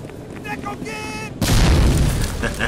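A grenade blast in the PS2 game Medal of Honor: Frontline, a loud close boom that erupts suddenly after a brief stretch of quieter game sounds and a voice, then rumbles and fades with a lingering roar.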